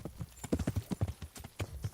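In the Kingdom Come Deliverance video game, a horse's hooves clip-clop in a quick, uneven gallop rhythm, moderately close and alone without voices.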